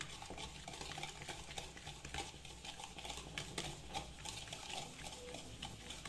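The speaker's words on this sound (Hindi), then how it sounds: "अब हम लेंगे ऑयल, पाउडर शुगर, विस्कर से हम मिक्स कर लेंगे अच्छे से।" A whisk beats oil and powdered sugar together in a bowl, a fast, continuous run of light scraping and clicking strokes heard up close, with no talking.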